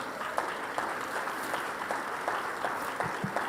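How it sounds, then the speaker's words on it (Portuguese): A church congregation at a national vigil service applauds together, a dense, steady wash of many hands clapping throughout, with occasional louder individual claps standing out. "Dá uma salva de palmas do Senhor"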